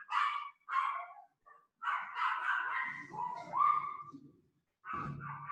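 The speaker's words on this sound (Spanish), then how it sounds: "Aquí habían perritos" Several dogs barking and yipping nearby in short bursts, some high-pitched and whiny, with pauses between and a final bark after a brief silence.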